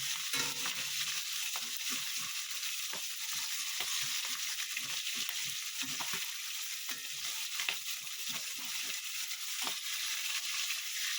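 Katla fish fries in a pan with a steady hiss of hot oil, punctuated by frequent scrapes and clicks of stirring, close up and fairly quiet, with no voices.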